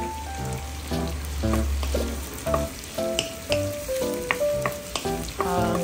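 Carrots fry in a pan while being cooked for tilapia escabeche, giving a steady close sizzle broken by irregular scraping and clinking stirs of a utensil against the pan.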